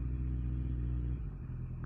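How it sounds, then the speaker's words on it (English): Steady road traffic rumbles close by during a ride, a loud low engine drone with a shift in pitch partway through. "what is with all this friggin' traffic"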